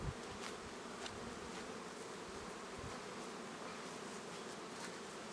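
Honeybees hum densely around their hives in an apiary during spring, a constant close swarm of buzzing with individual bees zipping past the microphone now and then, and no voices.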